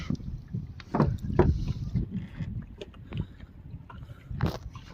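A small fishing boat drifting backward on open water, with soft splashes, creaks and low rumbling knocks under steady wind noise, close and fairly quiet.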